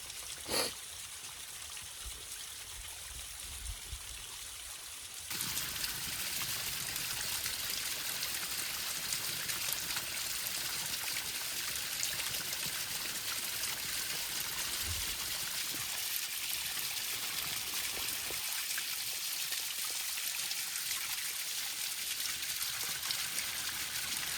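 Water from the falls at Fillmore Falls rushes continuously, faint at first and then swelling into a steady broadband roar that carries on for the rest of the clip.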